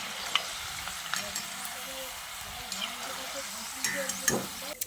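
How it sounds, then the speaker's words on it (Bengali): Steady sizzling of peanuts frying in hot oil, with occasional stirring clinks and scrapes. "দিয়ে চিনেবাদামটাকে খুব ভালো করে ভেজে নিচ্ছি।"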